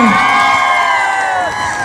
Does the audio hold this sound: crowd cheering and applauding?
yes